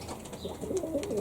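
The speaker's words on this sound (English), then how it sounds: "The wood pigeons here are crazy plump and noisy." Plump wood pigeons coo softly in a cottage garden, a low rhythmic call rising near the end, faint and fairly close with no talk.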